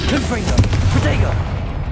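Rapid fiery blasts and booms from the Confringo fire spell in Hogwarts Legacy burst in quick succession, loud and close, layered with a voice shouting spell names throughout.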